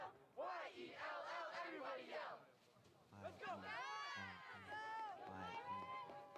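A crowd at an IHSA high school playoff soccer game between Palatine and Libertyville yells chants in loud, rhythmic bursts of many voices, with a pounding beat of group shouts in the second half.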